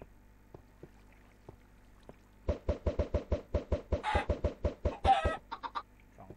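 Chickens in the video game Minecraft, a quick run of about a dozen rhythmic clucks close by, with a couple of brief bursts of higher-pitched squawking near the end, after faint sparse ticks in a quiet opening.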